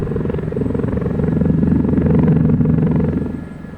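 A Mi-8 helicopter lands in a flight simulator game, its low rhythmic rotor thump and engine drone steady and loud, swelling slightly in the middle and easing at the end.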